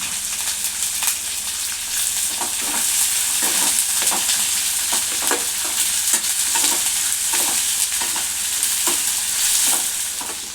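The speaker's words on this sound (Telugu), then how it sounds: "పచ్చిమిర్చి, ఉల్లిగడ్డ 2 వేసుకుంటాను. ఇది మంచిగా బ్రౌన్ కలర్ వచ్చేంత వరకు వేగాలండి." Green chilies and onions sizzle steadily in a hot pan, a close, continuous frying hiss punctuated by regular stirring scrapes, with no talking.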